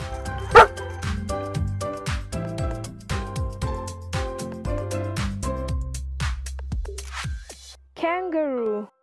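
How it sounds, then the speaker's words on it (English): A dog gives a single sharp bark early on and a whining yip near the end, both heard over a bouncy, rhythmic music track. "Dog."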